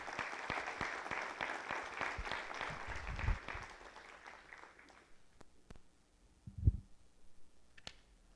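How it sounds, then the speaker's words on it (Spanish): An audience claps after a speaker is introduced at an academic event, a dense burst of applause that thins out around the middle, leaving a few scattered claps and taps toward the end. "Le damos un fuerte aplauso, por favor"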